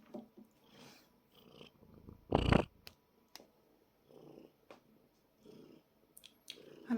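A house cat purring softly and close up, in low rumbling bursts with quiet gaps, joined by one louder rustling brush and a few small clicks, with no speech.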